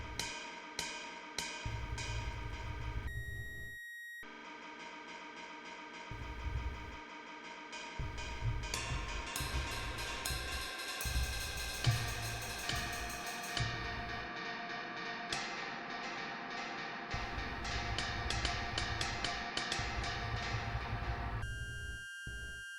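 Sample looped in the ReaSamplOmatic5000 sampler with the loop start offset moved, bright tonal synthetic material repeating in stuttering cycles with abrupt cuts and shifting texture, steady level throughout with no voices.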